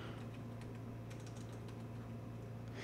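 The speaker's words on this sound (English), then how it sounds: "I can just hit enter and start typing" Quiet keyboard typing while entering a dimension in a SolidWorks drawing text box: a few light, scattered key clicks over a low steady computer hum, with no talking.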